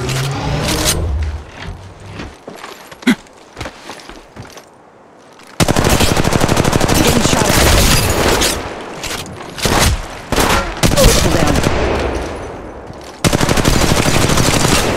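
An automatic Mastiff shotgun fires in Apex Legends Mobile in long, loud, rapid bursts. Short pauses and quieter mechanical clatter break up the bursts before the fire starts again.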